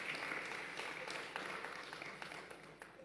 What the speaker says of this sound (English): really give another round of applause to the Vice-Chancellor